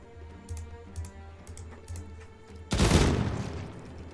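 A rapid burst of automatic gunfire from the tactical game Jagged Alliance 3 tears in loudly near the end, after a stretch of quick clicking taps.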